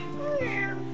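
A kitten at a petting zoo in Killarney, Ireland, gives a single drawn-out meow, close and clear, rising then falling in pitch over about a second.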